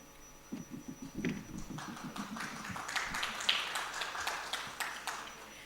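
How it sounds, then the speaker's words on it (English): Audience applause for a diplomacy and policy panel at a literature festival, light and somewhat distant clapping with a scattered rhythm, mixed with faint low voices. "let's begin with a huge round of applause for this illustrious panel"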